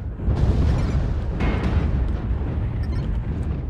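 Heavy rumbling explosions from bombarding enemies in a video game roll on continuously, deep and loud with a dense low boom and scattered crackling bursts layered on top.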